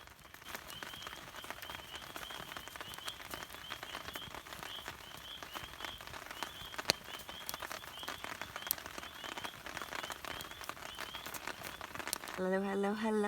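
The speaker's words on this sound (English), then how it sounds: "sound of the rain on the tarp" Steady patter of rain drumming on a taut tarp at a campsite, dense and even, with faint croaking frogs in the background.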